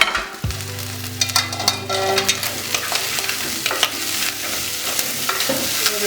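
Onions sizzle and fry in a pan while being stirred for a wet fry beef dish, with steady scraping and crackling throughout, a low steady hum underneath and a single brief spoken word.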